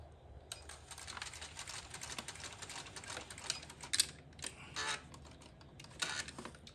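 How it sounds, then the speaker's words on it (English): A sewing machine stitching fabric for a small backpack runs in rapid mechanical bursts, its fast needle ticking moderately close and fairly quiet, stopping and restarting unevenly as though it struggles to feed the material. "This machine seems to be struggling a bit feeding this properly"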